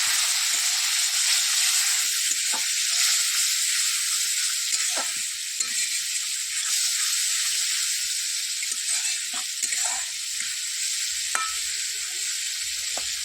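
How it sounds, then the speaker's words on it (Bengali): Continuous loud sizzling hiss of spice paste frying in a hot pan, with occasional scraping and stirring clicks, up close and without talk. "এবার এটাকে মশলাটাকে একটু ভালো করে ভেজে নেব"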